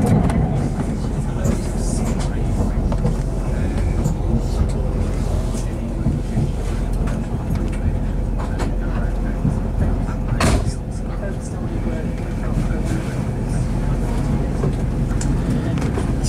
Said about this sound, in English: One of the new trains, new Transpennine ones, just passing on test runs on the Nova fleet.